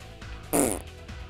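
A single loud, juicy fart lasting about a third of a second bursts out over low background noise during a French Dragon Ball FighterZ gaming session.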